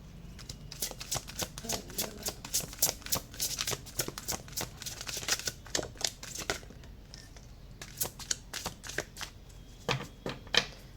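Tarot cards are shuffled close up in a quiet room, giving repeated rapid bursts of riffling, papery flicks in an uneven rhythm for about eleven seconds.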